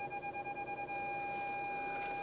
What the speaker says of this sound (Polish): Słychać, że mamy już tą przeszkodę wykrytą w czujnikach.